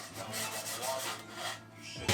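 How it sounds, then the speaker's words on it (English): Rhythmic back-and-forth strokes of hand sanding against the bottom of wooden stool legs, close and steady, each rasping pass repeating about every quarter second. "I did some hand sanding to ease over the bottom of the legs."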